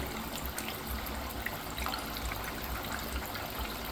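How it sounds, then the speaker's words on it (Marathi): Shankarpali dough pieces frying in hot oil, a dense, even bubbling hiss, close and continuous throughout without breaks. "आता आपण शंकरपाळ्या तळायला घेऊया एक एक तेलामध्ये सोडून द्यायचे"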